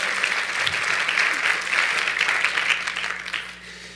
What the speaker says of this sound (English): Let's have a round of applause for Megan just for walking on stage.